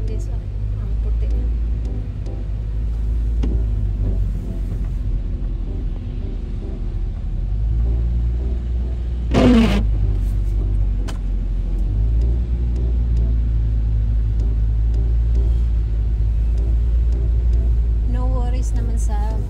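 Car fitted with snow tyres driving along a snowy road near Shiraito Falls, a steady low engine and road rumble throughout, with a brief sharp squeak near the middle and people talking over it.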